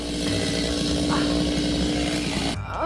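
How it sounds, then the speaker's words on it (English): A live chainsaw runs steadily at full throttle near a house where a tree is being felled, its engine drone holding loud and continuous before cutting off abruptly near the end. "Oh, there's a live chainsaw."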